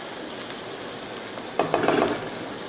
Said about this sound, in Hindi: प्याज थोड़े फ्राई हो जाएंगे